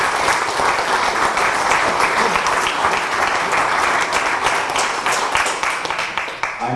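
An audience gives fire department speakers a round of applause, dense and steady clapping held at an even level throughout and easing slightly at the very end.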